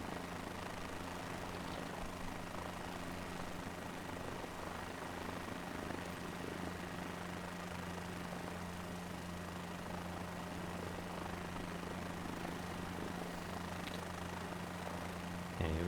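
A helicopter in Microsoft Flight Simulator 2024 holds a steady engine drone near a helipad, with constant rotor hum and a low tonal whine running unbroken, loud and alone without talk.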